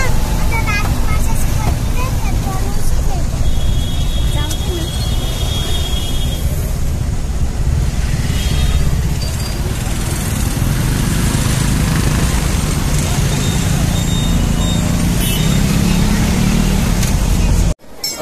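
Riding in an auto rickshaw through traffic in Tirupati: a constant low engine rumble with wind rush and road noise stays loud and steady throughout, then cuts off abruptly at the end.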